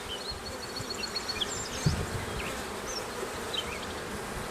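Honeybees buzz around an open backyard beehive, several insects droning and passing close by in irregular swells against steady outdoor ambience, with one brief nearby thump.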